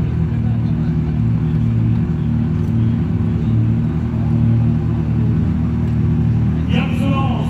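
A Toyota GR Yaris Rally2 rally car at a race start, with a loud, steady, low engine rumble running throughout and a brief higher rising whine near the end.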